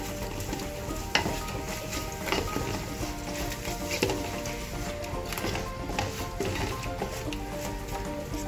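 Chicken biryani masala for a Coimbatore-style dum biryani is stirred and mixed in a pot, giving a dense, continuous sizzle with periodic thuds and scrapes of the spoon, close and fairly loud.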